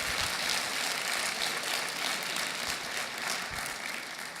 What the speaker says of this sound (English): Can we get another round of applause for Harry Elam